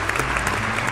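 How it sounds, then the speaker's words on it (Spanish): A short burst of crowd applause used as a sound effect in a Spanish gaming dub, dense clapping heard alone for about a second before cutting off abruptly. "me merezco un aplauso"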